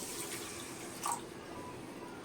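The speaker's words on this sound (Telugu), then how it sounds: "1/2 గ్లాసు వాటర్ పోద్దాము" Water is poured into a pan to start a sugar syrup for bread halwa, a soft, steady trickling splash that lasts a couple of seconds in a quiet kitchen.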